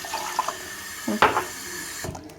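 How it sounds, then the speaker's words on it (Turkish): Water runs from a kitchen faucet with a quiet, uneven trickle and a brief louder gush midway, then fades. "Bu arada çeşmem de ses yapıyor."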